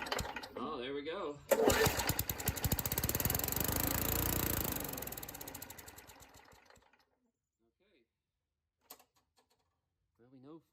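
A Murray push mower with a 3.5hp Tecumseh engine sputters into life, running loud and close in a rapid rattling drone for a few seconds before fading out and dying, with a person talking around it.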